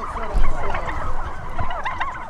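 A flock of free-range turkeys gobbling together in a dense, continuous chorus of warbling calls, close and fairly loud.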